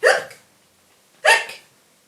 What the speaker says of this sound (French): La fillette était si terrifiée qu'elle attrapa le hoquet.